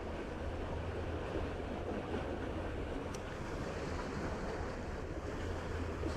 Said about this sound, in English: This is some fast flowing water.